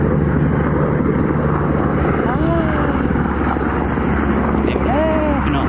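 An airplane passes overhead a blueberry farm, a continuous loud rumbling drone of engine noise with a faint rising whine, heard beneath a voice talking outdoors.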